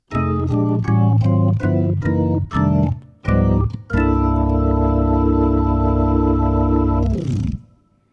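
A Hammond SK Pro organ on its Vintage B3 sound plays rhythmic staccato chords, then holds a long, full sustained chord before releasing into silence.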